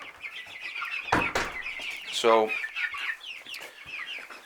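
Rhode Island Red chickens cluck close by in a few short bursts, with one louder squawking call in the middle and a voice briefly speaking.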